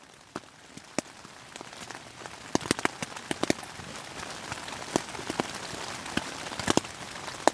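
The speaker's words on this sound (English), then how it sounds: "That was just rain." Rain patters on a camping tent, a continuous hiss broken by scattered sharper drops and taps, fairly close and moderately loud, with no voices.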